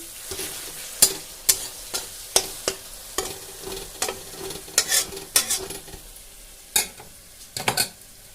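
Paneer and peas are stirred in a spiced masala in a pan over a low, continuous sizzle, with sharp, irregular spatula clinks and scrapes against the metal and no voices.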